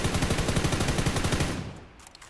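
Rapid automatic gunfire from hip firing a weapon in PUBG New State, a dense burst of loud shots lasting about a second and a half before trailing off into faint echoes.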